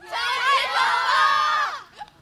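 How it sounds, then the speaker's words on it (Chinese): A stand-up comedy studio audience roars for a comedian, many voices cheering and whooping together in a loud, sustained burst of about two seconds before it cuts off. "我们掌声再次送给英宁。"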